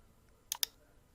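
Two quick, crisp computer mouse clicks sound in close succession against a quiet background.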